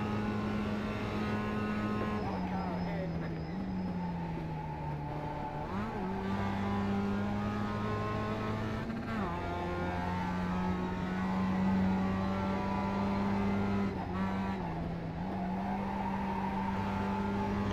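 A Mercedes AMG GT3 race car in the iRacing sim holds a loud, steady engine drone that drops on braking and climbs back through upshifts and acceleration several times, continuous and close with no talking.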